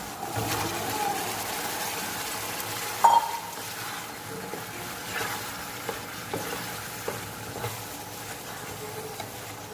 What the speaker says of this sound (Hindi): तो अभी मैं चना डाल दे रहा हूँ।